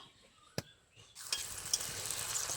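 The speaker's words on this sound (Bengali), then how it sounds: "আমার গ্রেভিটা ভালো ফুটে গেছে" Eggplant gravy for a vegetarian begun bahar bubbling and sizzling steadily in a pan after a couple of sharp clicks, the hiss rising and staying loud with no talking.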